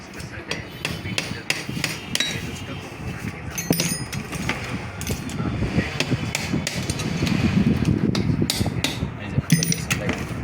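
A wheel nut is loosened with a screwdriver: a rapid series of sharp, close metallic knocks and taps runs throughout, with a voice talking in the background.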